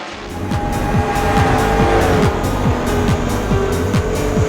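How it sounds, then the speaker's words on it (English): Race cars roar past in the video game Test Drive Le Mans, with loud high-revving engines shifting through gears in quick repeated sweeps and tire squeal over a continuous racing din. "watch the cars come speeding toward you in the replay with their headlights blazing"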